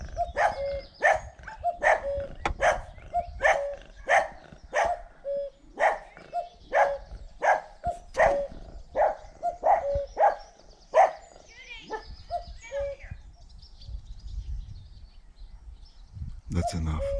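A dog barks in a rapid series of about a dozen sharp, fairly close barks, evenly spaced at first and then thinning out, followed by quieter whimpering and rustling.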